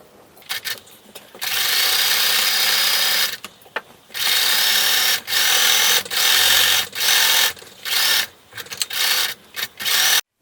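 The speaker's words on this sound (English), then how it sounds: "I'm going to quilt the layers together. I'm just going to do 3 big long straight stitches." A sewing machine runs stitching quilt layers together for a pie-shaped table topper, giving several long, loud, steady bursts of whirring motor and needle with short pauses between, close up and without talk.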